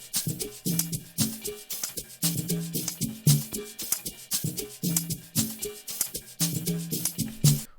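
An Amapiano music loop plays on its own at low volume, with punchy log-drum bass hits and percussion repeating in a steady, bouncy rhythm.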